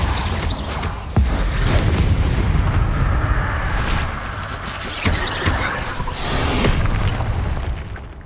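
Repeated spell blasts from the Depulso force-push charm in Hogwarts Legacy, heavy booming impacts and sharp cracks stacked over a dense, continuous rumble of combat effects, loud throughout.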